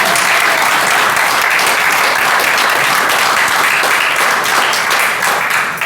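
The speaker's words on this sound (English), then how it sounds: "Please give Reverend Wright another round of applause." Dense, loud applause from a crowd for Reverend Wright fills the room steadily and without a break, a thick continuous wash of many hands clapping at once.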